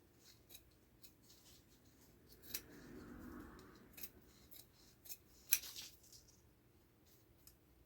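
Quiet, sparse snips of fabric scissors cutting fabric, with soft rustling between the cuts and one sharper snip near the end.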